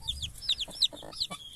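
Chickens on a small farm in central Portugal cluck and squawk in a quick, close series of calls, with brief pauses between bursts and no talk.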